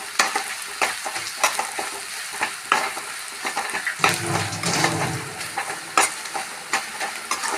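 Chilli flakes fry in oil in a pan for jackfruit-seed mezhukkupuratti, giving a close, soft sizzle broken by repeated scraping stirs of a spoon, with a louder burst of frying midway.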